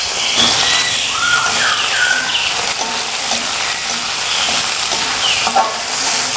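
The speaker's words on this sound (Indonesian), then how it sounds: "ini kita goreng dulu bawang merah, bawang putih" Shallots, garlic and chili, mixed with shrimp paste, fry and sizzle steadily in a pan for sambal, with occasional stirring scrapes and clinks over a constant crackling hiss.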